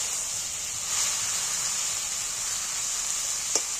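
Pieces of fish fat frying in hot oil, a steady close sizzle and hiss that barely changes, with a brief clink of stirring near the end.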